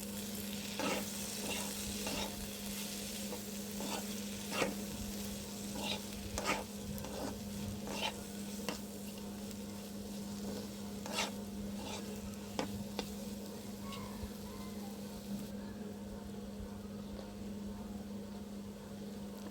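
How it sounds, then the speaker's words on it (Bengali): Chopped tomato stirred and fried in a pan for tawa chicken, a faint steady sizzle broken by repeated light scraping and stirring clicks, close and without any voices, with a low hum underneath. "দিয়ে আমি আবার নাড়াচাড়া করে একটু ভেজে নিব।"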